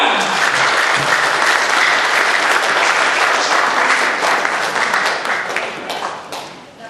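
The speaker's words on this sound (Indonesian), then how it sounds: "mari kita sambut dengan tepuk tangan yang meriah" Audience applause at an Indonesian business coaching seminar, a dense, loud burst of clapping from a crowd that holds steady and then slowly fades toward the end.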